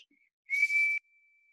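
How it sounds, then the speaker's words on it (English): A single short, clear whistle from a bird's beak, high and steady, lasting about half a second against near silence. "a funny whistling noise came out of its beak."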